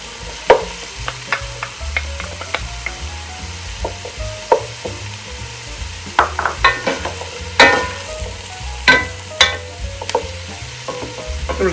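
Garlic sizzles in a pot for Portuguese-style kale soup with chorizo, a steady crackling fry beneath scattered sharp clinks and scrapes of a spoon against the pot, close and moderately loud.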